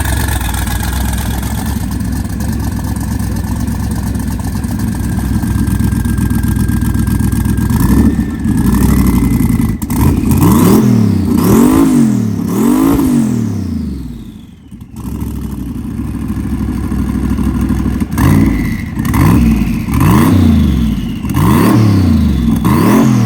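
A 4WD Suzuki Swift with a twin-turbo LS engine of over 1,000 horsepower revs hard at a car show, rising and falling in repeated loud bursts, with a brief drop to near idle midway.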